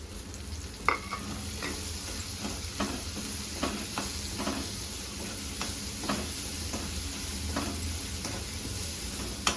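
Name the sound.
onion, green chili and garlic frying in a pan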